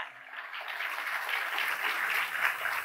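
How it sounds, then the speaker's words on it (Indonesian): Steady, soft applause from a congregation at a church service continues throughout, a continuous wash of hand clapping with no talk over it. "Mau dipakai Tuhan berikan tepuk tangan bagi Allah kita."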